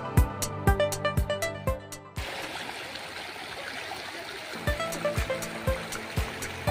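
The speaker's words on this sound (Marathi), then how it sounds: "पावसाचा ओढा फुल भरत आहे, बाळून वाहतो" Rushing water of a rain-fed stream near Zenith Waterfall, Khopoli, fills the scene, with rhythmic struck musical notes ringing over it at the start and again near the end.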